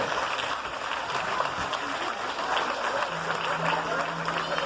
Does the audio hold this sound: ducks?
no